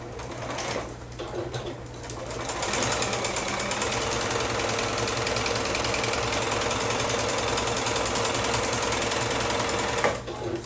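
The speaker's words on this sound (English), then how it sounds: "I'm going to go ahead and sew our half square triangles first" A sewing machine stitches half square triangle pieces for a quilt block. After a brief start, its motor hums and clatters in a fast, steady rhythm close by for about eight seconds, then stops abruptly. No one speaks.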